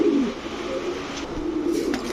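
White Racer pigeons cooing, a couple of low warbling coos over a steady indoor hum, moderately close.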